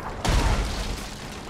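A deep, muffled boom from an explosion in the video game Sea of Thieves bursts abruptly and then rumbles into a broad, fading roar, close and loud with no talking.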